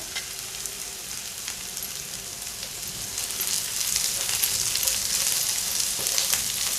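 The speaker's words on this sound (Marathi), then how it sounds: "खोबऱ्याचे काप हे आलं ही लसूण हे आता आपल्याला घालून घ्यायचं आहे आणि छान असं परतून घेऊया" Coconut slices, ginger and garlic sautéing in a pan for misal, a continuous close sizzle and crackle that grows a little louder partway through, with faint stirring.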